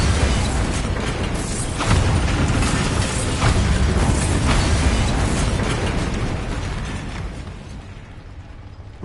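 Repeated blasts of the Bombarda spell in Hogwarts Legacy: loud, broadband explosive bursts rolling one into the next over sustained rumbling game noise, fading slightly near the end.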